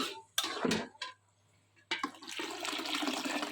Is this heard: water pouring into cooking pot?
yes